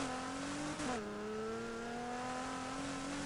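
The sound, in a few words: car engine revving in video game Need for Speed Heat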